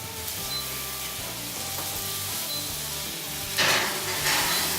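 Seared meat sizzles steadily in a hot pan, a continuous close crackle that swells louder near the end with a brief clatter of cookware.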